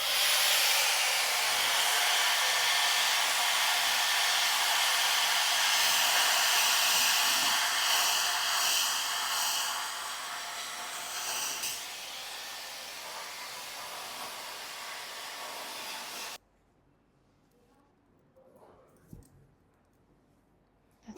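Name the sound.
hair dryer blowing on hair topper base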